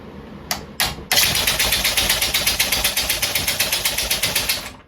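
A homemade air-powered engine running on just one of its cylinders chugs loudly and close by, starting after two brief bursts and then settling into a steady, rapid puffing rhythm of regular exhaust pulses.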